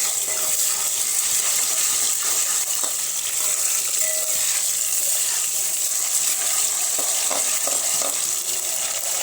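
Ginger garlic paste, two tablespoons, being mixed into hot oil in a pan for a restaurant-style veg Diwani handi, giving a loud, steady sizzle and hiss with scraping stirring strokes throughout, no voices.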